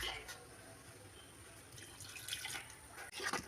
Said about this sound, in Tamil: ஒரு ஒரு கப்பு தண்ணி சேர்த்துக்கலாம் ஃப்ரெண்ட்ஸ்